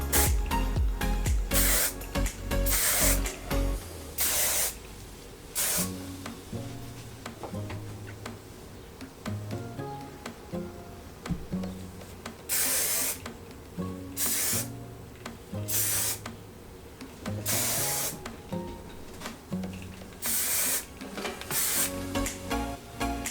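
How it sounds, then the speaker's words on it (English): Repeated short bursts of hairspray hissing close by, separated by brief pauses, with faint rustling between sprays. "grab your favorite hairspray, tussle your hair out just with your fingers"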